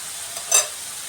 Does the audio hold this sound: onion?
yes